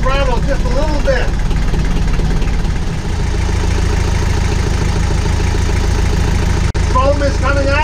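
A medium engine runs steadily at idle and then holds a slightly raised throttle, a continuous loud drone with a brief dip midway, with voices talking over it.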